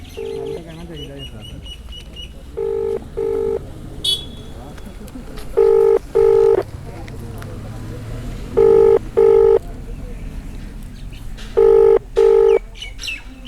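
A telephone call is dialed, with four evenly spaced pairs of clear keypad tones ringing out over faint background chatter and distant birds.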